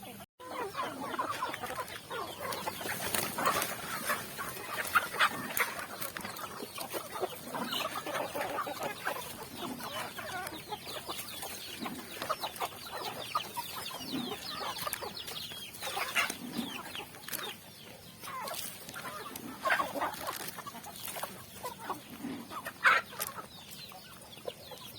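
Native chickens cluck steadily and loudly at feeding time, a dense flock with overlapping clucks and a few sharper calls running throughout, close and continuous.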